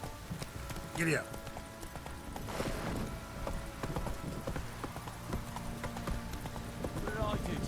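A horse gallops in The Witcher 3 video game, rhythmic clip-clopping hooves running steadily throughout, mixed with game sound effects, a brief vocal shout near the start and a whinny toward the end.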